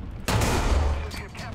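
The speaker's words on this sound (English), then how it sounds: "That gun sounded gnarly." A heavy AUBL/74 gun fires in War Thunder, giving one loud, booming blast that hits suddenly and rings out with a long rumbling decay.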